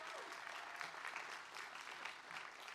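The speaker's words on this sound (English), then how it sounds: "Let's give them a round of applause." An audience at a college commencement ceremony claps in a faint, distant, steady round of applause.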